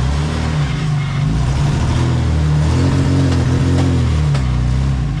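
A four-wheel-drive truck in an off-road Tuff Truck event revs loudly and steadily nearby, its engine drone holding a strong low rumble with slight pitch swells.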